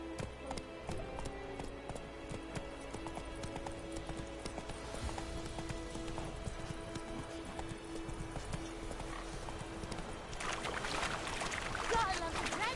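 Roach the horse's hoofbeats clip-clop steadily through a Witcher 3 game scene, set against a constant music bed with a brief whinny and some splashing late on.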